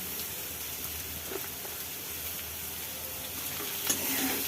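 Ridge gourd pieces hit a spiced tempering of green chilli, red masala and coriander in a pan, giving a soft, steady sizzle with occasional faint stirring scrapes. The sound is quiet and close, and a brief louder clatter comes near the end.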